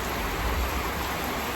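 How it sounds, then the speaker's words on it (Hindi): Rain falls steadily in wet weather, a dense, even hiss with nothing else standing out, close and fairly loud throughout. "वर्षा पाग होछे पूरा"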